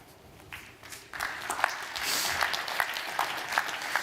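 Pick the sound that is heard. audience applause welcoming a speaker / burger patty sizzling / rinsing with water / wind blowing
audience applause welcoming a speaker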